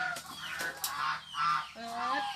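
Geese honk among ducks and chickens during a rural Thai feeding, close and fairly loud in short repeated calls, with a voice talking briefly.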